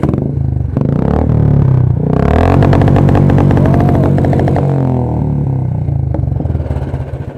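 A Hero Xpulse 200 motorcycle exhaust runs loud and close, with a steady throbbing idle that swells into revving bursts and then settles back.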